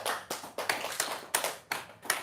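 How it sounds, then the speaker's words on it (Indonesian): Hands clap in a slow, steady rhythm, about seven sharp claps spaced roughly a third of a second apart, close and clear with no voices over them. "Tepuk tangan dulu dong."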